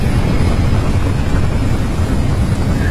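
An aircraft in Halo: Reach, during the Tip of the Spear level, gives a steady, loud, low engine roar with a windy rush that holds unbroken throughout and has no speech over it.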